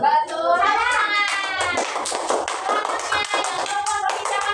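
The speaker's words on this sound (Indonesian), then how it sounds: "Tepuk tangan." A class of Indonesian fifth-grade primary school children claps hands together in a quick rhythmic burst close by, with children's voices mixed into the clapping.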